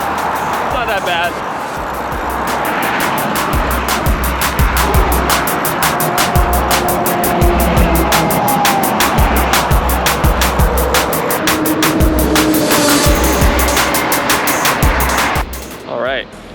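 Freeway traffic rushes past a bicycle rider with a continuous roar and repeated vehicle swooshes, loud and close, under heavy wind buffeting on the microphone.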